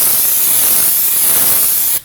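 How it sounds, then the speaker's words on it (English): Close, loud continuous hiss of brake parts cleaner sprayed from an aerosol can onto a new brake rotor during a rear wheel bearing and hub job on a 2011-2016 Kia Optima, cutting off abruptly at the end. "I'm gonna grab myself some brake parts cleaner and a rag"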